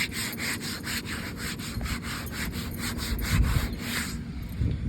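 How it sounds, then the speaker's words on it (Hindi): Steady, close rubbing and scraping noise from a Maruti Suzuki car body part, a rough repeated friction sound that continues throughout without voices. "इसमें से भी घिसने की आवाज़ आ रही है कुछ।"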